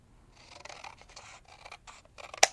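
Scissors snip through material by hand in a series of short scraping cuts, ending in one sharper, louder snip close to the microphone.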